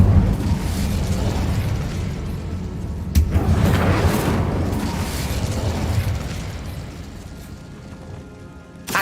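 The Incendio fire spell cast in Hogwarts Legacy, heard inside a tomb: a loud whooshing burst of flame with a sharp crack near three seconds, then a roaring fiery rush that gradually fades, with no talking.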